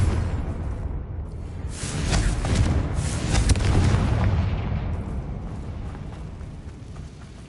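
A Confringo fire spell explodes in the video game Hogwarts Legacy, giving a dense, rumbling blast with crackling bursts that swells and then slowly fades, heard alone without speech.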